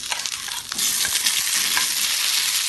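Sliced onion and tomato with chilies being stirred and sautéed in a hot pan for chutney. A loud, close sizzle swells after a short pause, with scraping stir strokes running through it.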